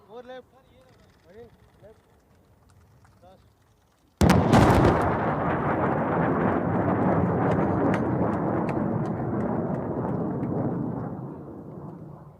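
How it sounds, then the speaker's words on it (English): A Rafale jet's supersonic boom at the Pokhran air-to-ground range during an air force exercise: a sudden sharp double crack after quieter talk, then a long loud rolling rumble that fades slowly. "And that was the supersonic boom"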